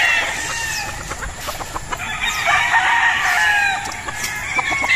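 A gamefowl rooster on a gamefarm crows and clucks close by. Its calls are loud and repeated over a faint background.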